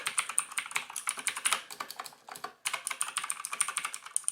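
A GranVela MechanicalEagle Z-77 mechanical gaming keyboard with blue switches is typed on in fast, crisp clicky keystrokes. There is a brief pause midway, then another quick run of clacks, close and clear.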